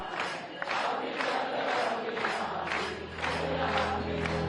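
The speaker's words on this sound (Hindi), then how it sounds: "मां भगवती के जयकारों से मंदिर गूंज उठे हैं" Crowds of devotees chant and cheer praises of the Goddess Katyayani in a temple on the sixth day of Sharadiya Navratri, rhythmic surging group shouts that rise and fall repeatedly, with a steady low drone beneath.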